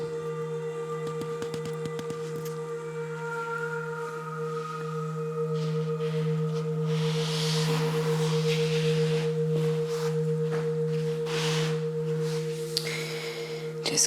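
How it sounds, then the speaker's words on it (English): A big Tibetan singing bowl rings with a deep, earthy drone, its steady low hum and higher overtones sustaining and slowly beating for the whole stretch during a quiet restorative yoga session. "I'm gonna use this beautiful big Tibetan singing bowl that is very sort of earthy, has a very earthly deep sound."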